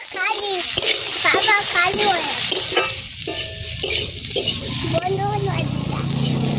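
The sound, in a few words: potatoes frying in a pan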